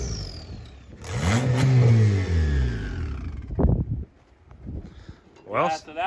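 A race car engine on a racing surface revs hard and climbs through second gear, a loud rising roar that drops off, then short blips and a brief second rise; a voice talks under it.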